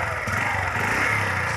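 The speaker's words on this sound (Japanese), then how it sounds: "あーカブだね、カブの音だ" A Honda Cub motorcycle's small long-stroke engine runs steadily with a low, even thrum and light mechanical clatter, close and continuous throughout.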